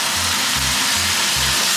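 Steady, dense sizzling of ginger pork frying with honey in a hot pan, with a low rhythmic thumping underneath.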